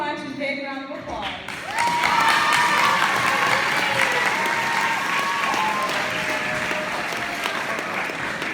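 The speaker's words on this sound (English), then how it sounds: "big round of applause" A school sports banquet crowd breaks into loud, sustained applause and cheering for the senior girls soccer team, the dense clapping rising after a second and holding steady with scattered whoops and voices mixed in.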